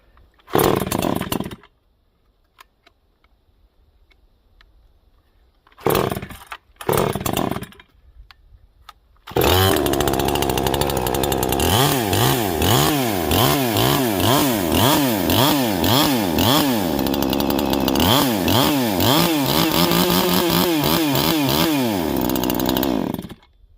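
A ported, muffler-modded Neo-Tec NH843 chainsaw starts after a few short bursts and brief stalls, then roars loud and close, revving up and down repeatedly for over ten seconds.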